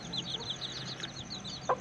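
Aseel hen with her chicks: a run of high, quick peeping from the chicks over a soft low background, with one short louder cluck near the end, close and without speech.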